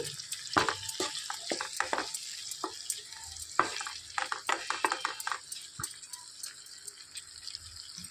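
Tomatoes with salt stirred in a pan for a bachali leaf tomato curry: irregular scraping clicks and taps over a soft steady sizzle, close and moderately quiet, with no talking.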